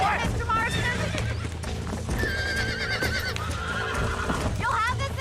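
Horse in the Red Dead Redemption video game on PS3, with several loud whinnies and neighs over clip-clop hooves and game background sound, while people talk throughout.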